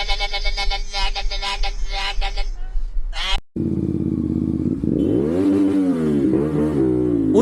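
A CF Moto 450R motorcycle is revved hard to the rev limiter, loud and close. Bursts of engine hit the limiter in a stuttering rhythm, then there is a brief cut and a rising and falling rev.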